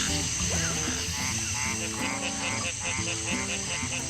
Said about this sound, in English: So this is a really large bullfrog.